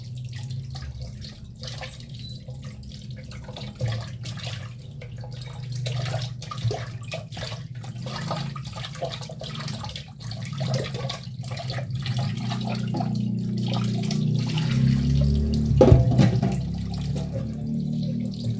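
A kitchen tap runs steadily while food is washed for sinigang, a continuous splashing stream with scattered drips and clatter that grows louder and fuller toward the end, with no talking.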